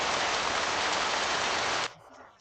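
Heavy monsoon rain pours down in Yunnan, a dense, steady roar of downpour that holds loud and unbroken for nearly two seconds before cutting off abruptly into near quiet.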